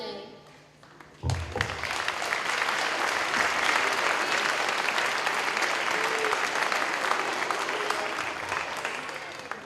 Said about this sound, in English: Let's have another round of applause for these fabulous 4th and 5th grade students.